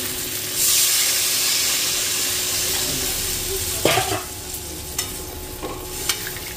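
Potatoes and taro fried with spices sizzle loudly in a pan as water is poured in, bringing a surge of hissing steam and several clinks of a spoon against the pan.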